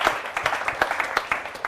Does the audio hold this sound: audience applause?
yes